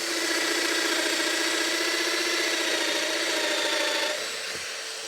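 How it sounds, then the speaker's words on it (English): Festool Domino doweller with a blunt cutter plunging a mortise into wood without dust extraction, a loud steady motor whine that drops in level near the end as the cut finishes. "show you my, how to put it, my blunt cutter in action"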